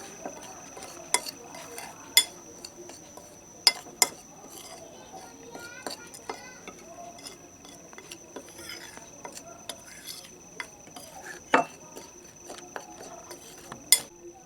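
A spoon stirs a powdered herbal mixture in a bowl, giving light scraping and scattered sharp clinks against the rim, quiet and close, with no talking.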